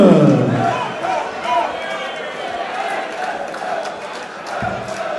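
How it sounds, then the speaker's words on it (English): A German darts crowd at the Maritime Hotel in Berlin chants a home player's name after a 180, a broad roar with rhythmic group shouting that carries on under the voice of a commentator. "As you can hear now, it has livened them up a bit. They're chanting his name."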